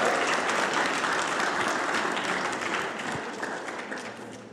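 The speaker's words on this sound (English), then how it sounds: "they're clapping." An audience at a church-style community gathering claps continuously, a broad wash of many hands that stays dense and gradually fades slightly toward the end.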